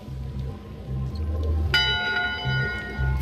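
A ship's bell in the video game Return to Monkey Island rings out with one bright, resonant strike that hangs and fades, over low rhythmic background music.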